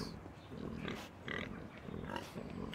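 Pigs oink in a medieval slaughterhouse yard in the video game Pentiment, several short grunts and snorts coming in close bursts with brief gaps between them.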